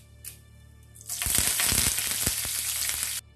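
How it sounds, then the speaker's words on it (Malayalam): Mustard seeds, dried red chilies and curry leaves hit hot coconut oil in a pan and burst into a loud, dense sizzle with sharp crackles and pops. The sizzle holds for about two seconds, then cuts off abruptly. "കടുക് പൊട്ടി വന്നിട്ടുണ്ട് അതിലേക്ക് 2 വറ്റൽമുളക് കൂടി ചേർത്ത് കൊടുക്കാം കുറച്ച് കറിവേപ്പിലയും കൂടി"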